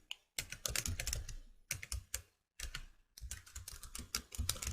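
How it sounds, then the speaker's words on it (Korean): Close, quiet typing on a computer keyboard comes in quick bursts of clicks separated by short pauses, with no voices. "이 상태로 텍스트를 입력하시고 이 부분에서 엔터를 눌러서 하나를 더 추가하고"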